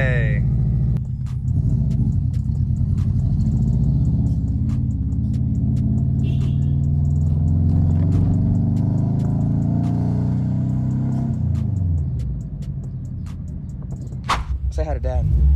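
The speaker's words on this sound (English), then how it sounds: "it feels really good to be able to just turn my key, push in my clutch, and just start up my car again." A Saab 9-2X Aero's engine idles with a steady low rumble after starting, holding smooth and close for several seconds before settling lower, with a few sharp clicks and a brief rev near the end.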